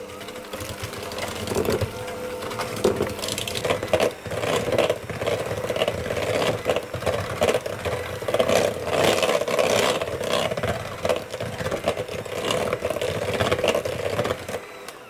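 Electric mixer beats lemon extract, egg and vanilla together for sugar cookie dough, a close, loud whirring with irregular rattling surges and clatter against the bowl throughout, no speech.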